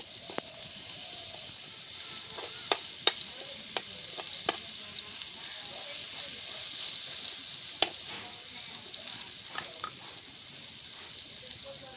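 Garlic paste fries in oil in a village kitchen to make massage oil, a faint steady hiss dotted with scattered sharp pops and crackles over about twelve seconds.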